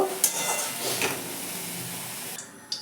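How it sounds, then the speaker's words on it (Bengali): Small prawns frying in oil with salt and turmeric, a dense steady sizzle up close with a couple of faint utensil clicks, trailing off at the end. "নুন আর হলুদ দিয়ে ভালো করে ভেজে নেব চিংড়ি মাছগুলোকে"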